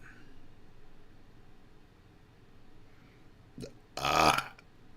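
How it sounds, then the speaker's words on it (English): One loud, close burp rises abruptly out of quiet room noise near the end, preceded by a short faint click. "Start burping"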